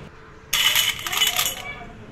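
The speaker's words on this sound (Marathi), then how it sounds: "एकदम खळखळीत असा आवाज येतो उन्हात कडकडीत भाजलं वाळल्यामुळे" Crisp sun-dried potato and sago sandge, a fasting snack, rattle and clatter together in a bright, close burst lasting about a second before fading back to a quiet room.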